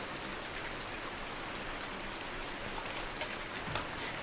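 Steady rain falls in the Farming Simulator 19 farming game, a constant even hiss of drops on surfaces that runs unbroken throughout with no voices.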